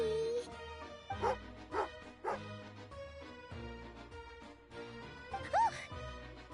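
A dog in Genshin Impact gives several short, sharp barks and yips, spaced irregularly over game music, with a brief whine near the end.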